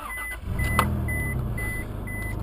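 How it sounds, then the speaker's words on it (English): A car engine idles steadily after being started to drive an alternator hooked to a solar charge controller, a low continuous rumble with a brief click near the start and repeated short electronic beeps over it. "then you want to turn your car on."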